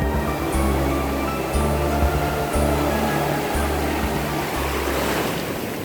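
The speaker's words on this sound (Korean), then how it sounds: "저거 진짜 파도 세다" Strong sea waves surge and break steadily at Sampo beach in summer, a loud, continuous roar of surf with rhythmic low thuds as each wave crashes close by, plus some wind buffeting.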